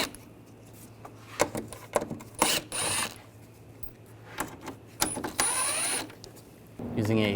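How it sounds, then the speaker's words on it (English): Ratchet fitted with a T25 socket backs out screws along the top of a 2009-2017 Volkswagen Tiguan front bumper cover, giving several short bursts of rapid clicking between quieter pauses, close up. "Up top, we're going to take these screws out, use a T25 socket."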